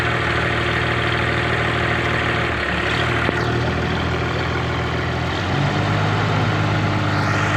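A Komatsu PC200 excavator's diesel engine runs steadily at a repair shop, giving a loud, continuous idle with a faint knock throughout and no talking.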